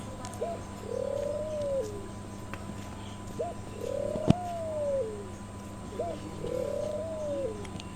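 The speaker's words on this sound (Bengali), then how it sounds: "পাখিদের কথা শোনানোর জন্য মূল ভিডিওর আমি সাউন্ড রিমুভ করিনি" Pigeons or doves at a mini zoo at a zamindar house in Mirzapur, Tangail, coo in three repeated, evenly spaced phrases over steady background hum, with one sharp click midway and no talking.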